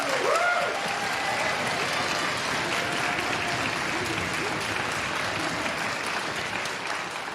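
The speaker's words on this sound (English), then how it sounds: "How about a big round of applause for these young people?" A large audience applauds students at an all-county middle and high school honor orchestra concert, a dense, steady wash of clapping sustained for several seconds.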